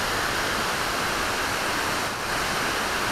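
A steady, broad rush of falling water from the Cascata do Moinho waterfall fills the scene, loud and continuous with no voices.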